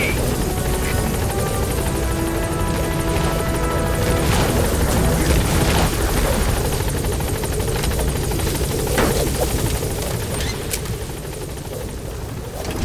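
The B-Quad support helicopter from the video game Metal Gear Solid V arrives at a landing zone, its rotors a loud, constant, dense roar with a buzzing undertone that eases slightly near the end.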